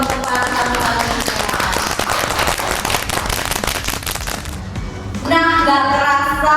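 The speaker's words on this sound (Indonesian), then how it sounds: "Beri tepuk tangan sekali lagi dong untuk para tamu-tamu kita." Audience at an Indonesian talk show claps for the guests, a dense, loud patter of many hands for several seconds, giving way to music near the end.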